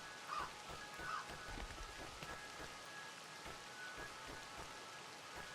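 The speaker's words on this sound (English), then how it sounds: "It's raining now." Steady rain patters throughout a scene in the video game Crow Country, a continuous even hiss with faint droplet texture, moderately quiet and alone with no talking.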